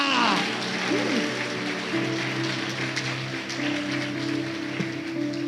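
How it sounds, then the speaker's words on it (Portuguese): Congregation applauding during a church service, a steady wash of clapping that runs throughout beneath sustained music and a voice. "Aplauda Ele nessa noite, oh glória!"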